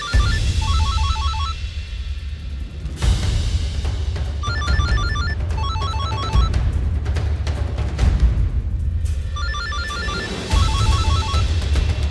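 Telephone ringtone plays in repeated electronic bursts for several seconds, fairly loud over a steady low background hum, with short pauses between the ringing phrases.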